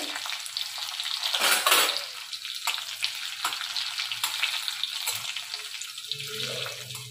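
Crushed garlic cloves frying in a pan, a loud, busy sizzle with a surge of bubbling crackle near the start, then steady spitting and stirring noises without any talk.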